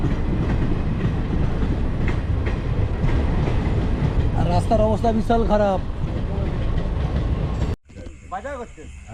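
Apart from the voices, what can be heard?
train passing on railway line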